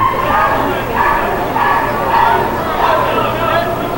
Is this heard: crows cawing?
no